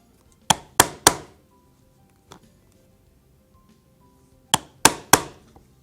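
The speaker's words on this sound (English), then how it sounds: "you could just take a single thonging chisel and go through" A thonging chisel driven through leather with sharp mallet strikes: three quick hits, a lone faint tap, then three more blows, each a crisp knock with a short ringing decay.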